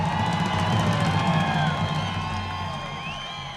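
A festival crowd at the Telluride Blues and Brews Festival cheers and whoops with a loud, dense roar that slowly fades, and a few shouts stand out.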